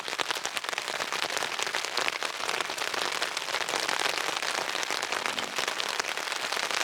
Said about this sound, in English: Wow, that rain's coming down.